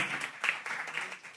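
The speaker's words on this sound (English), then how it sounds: "I think that deserves a round of applause." Applause at a city council meeting for a proclamation honoring Capitola Venetian Court: brief, light clapping from a small group, quiet and slightly uneven.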